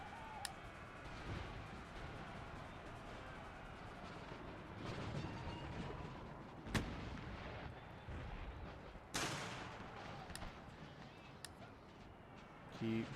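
Battle noise from Empire Total War, with booming artillery and crackling musket volleys over a dense, rumbling din and scattered louder blasts. Faint voices can be heard in the mix.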